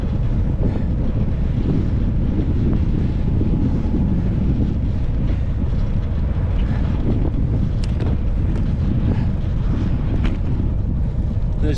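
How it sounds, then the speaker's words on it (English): Strong wind buffeting the microphone of a cyclist riding into a headwind on a rainy trail, a constant loud low roar with no break and no talk. "I turned and started riding into the wind here"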